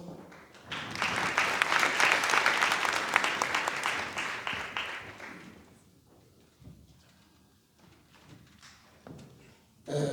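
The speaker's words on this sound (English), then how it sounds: "Can we give him a round of applause?" An audience at a small business development outreach event in Matjhabeng applauds a councillor. The clapping is loud for about five seconds and then dies away, leaving scattered thumps and a few faint claps in a quieter room.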